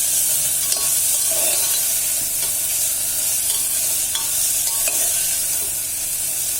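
Tomato, beans, carrot and potato sauté in a pan for brinjal pulao, giving a steady close sizzle and frying hiss broken by the scrape of stirring, with no talking.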